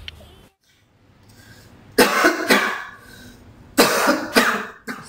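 A person with a worsening cough lets out two harsh, close coughing bursts, each a rapid cluster of hacks separated by a couple of seconds of near silence.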